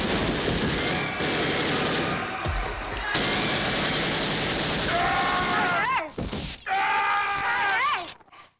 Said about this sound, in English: So he lays his hand on a Tommy gun,